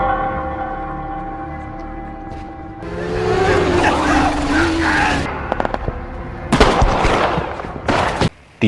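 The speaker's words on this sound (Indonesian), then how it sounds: "Di mana-mana terdengar suara tembakan, orang-orang dibunuh." Rapid bursts of gunfire crackle amid a loud, dense action soundtrack with rumbling tones in the film The Forever Purge, the shots sharp and close in the latter half.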